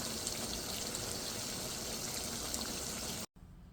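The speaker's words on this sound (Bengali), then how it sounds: "এখন ঝোলের পানি দিয়ে দেবো" Hot water poured into a pot of rooster curry, a continuous splashing stream that runs steadily and then cuts off suddenly near the end, leaving a faint quiet tail.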